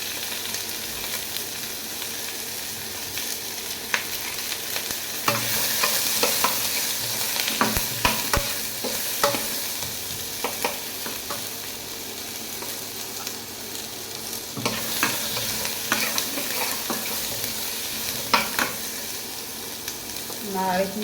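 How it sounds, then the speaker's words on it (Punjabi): Chopped ginger and garlic sizzling and frying steadily in a pan while a paneer curry is cooked, with the hiss and crackle continuous and close and bursts of stirring scraping through it. "ਨਾਲ ਹੀ ਅਦਰਕ ਦੇ ਟੁਕੜੇ ਪਾ ਦਾਂਗੇ ਕੱਟੇ ਹੋਏ ਵਿੱਚ ਹੀ ਆਪਾਂ ਲਸਣ ਪਾ ਦਾਂਗੇ"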